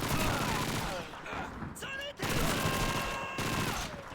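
Dense, continuous gunfire and battle noise fill the Call of Duty 2 video game, with a loud, nearly unbroken roar of shots and a short lull partway through.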